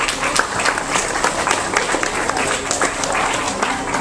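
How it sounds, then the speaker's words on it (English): Group applause at a running camp lecture, dense continuous clapping from a roomful of people, loud and close throughout. "Give yourself a round of applause."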